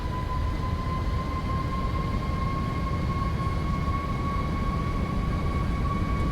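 Boeing 737 Max 8 engines spooling at takeoff in the Prepar3D flight simulator, a steady moderate jet whine with constant high tones over a broad rumble, unchanging and without talk.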